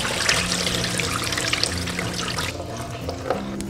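Rinse water drains from a bowl of washed Sichuan peppercorns and fennel seed, a steady trickling pour that runs for a few seconds, then a softer dribble with a brief splash near the end.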